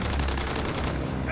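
Rapid gunfire from the Call of Duty WWII video game, a loud dense burst of automatic shots packed into a brief stretch, close and continuous.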